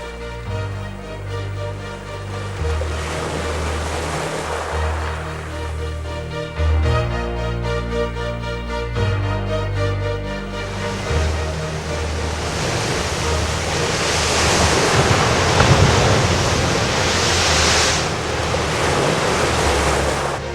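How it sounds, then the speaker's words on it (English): Atlantic Ocean surf pounds hard grey rocks and cliffs at Land's End, a loud, continuous wash of breaking waves with wind noise, overlaid by steady background music throughout. "where the Atlantic Ocean crashes against the hard grey rocks and cliffs."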